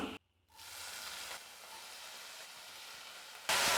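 Garlic and potato pieces sizzle and hiss steadily in a hot pan, a close, continuous frying sound with a brief quiet gap near the start and a louder burst at the end.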